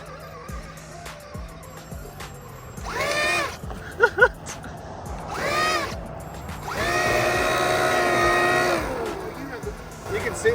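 A Traxxas Maxx RC truck on paddle tires runs in sand in several bursts, its electric motor whining up and down. The later bursts are longer and louder, and people talk in between.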